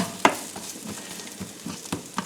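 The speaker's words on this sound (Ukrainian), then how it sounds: "туди цибульку. І нехай так воно собі обсмажується" Chopped onion fries in a hot pan for borscht, a steady low sizzle broken by a few sharp crackles and stirring knocks.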